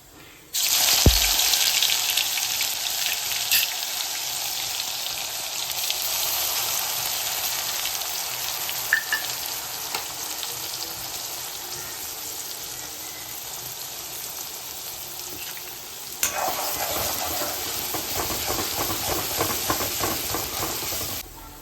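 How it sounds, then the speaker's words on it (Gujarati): Onion puree hits hot oil with a burst, then sizzles as a steady, dense hiss that runs throughout, with a brief louder spatter near the end. No one speaks. "હવે એ જ તેલમાં આપણે ડુંગળીની પ્યુરી નાખીશું"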